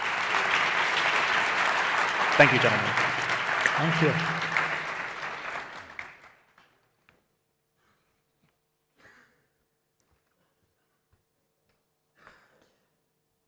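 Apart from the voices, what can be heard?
audience applause for panel guests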